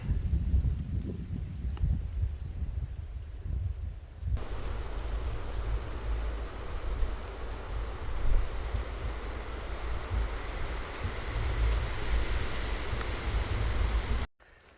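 Heavy wind buffeting a parabolic dish microphone in a swamp, a constant low roar and rumble that continues almost unbroken before cutting out at the end.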